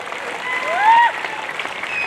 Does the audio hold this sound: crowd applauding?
yes